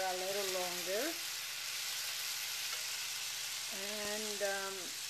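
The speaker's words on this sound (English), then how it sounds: "you're gonna add the rest of the Coca-Cola and let it simmer there for a little longer." Chicken wings simmering in a pan of Coca-Cola and soy sauce, a soft steady bubbling hiss heard alone at low level, with a couple of brief tonal whines rising over it.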